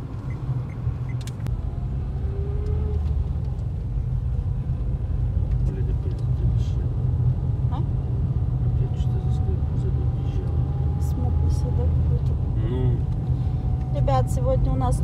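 Steady, loud low rumble of a car driving along a road, heard from inside the cabin, with a constant engine and road drone running the whole time.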